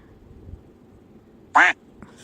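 A goose honks in the video game Ouchy Bird with one loud, short, nasal call over a faint, quiet background.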